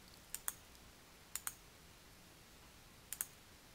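A computer mouse clicks checkboxes in a Microsoft Outlook dialog box: three quick double-clicks, crisp and close, spaced apart over a quiet background.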